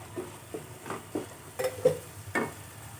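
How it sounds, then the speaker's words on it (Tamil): Turkey berries sautéed in a pan, a faint low sizzle with a few soft, evenly spaced stirring scrapes close by. "சுண்டைக்காயை இப்படி சேர்த்து நல்லா வதக்கணும்"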